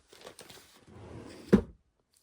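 A craft room drawer slides and bumps shut with a single close thunk after a brief rolling scrape, preceded by a few light handling knocks.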